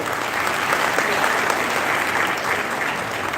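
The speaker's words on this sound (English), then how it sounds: "Please give him a big round of applause." Sustained, dense applause from a conference audience, steady and fairly loud throughout with no pauses, filling the room as an institution head is welcomed.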